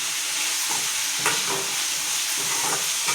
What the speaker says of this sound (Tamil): இந்த வெங்காயம் கொஞ்சம் பொன் வரல ஆறு வரைக்கும் வதக்கணும்